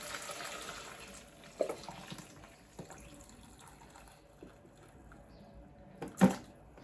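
Liquid pours into a cooking pot with a faint, soft trickle, broken by a couple of louder knocks and splashes.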